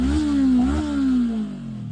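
A 2025 Honda NX500 motorcycle exhaust revs up close and loud, its pitch climbing and dipping through a couple of throttle blips before settling into a steadier idle.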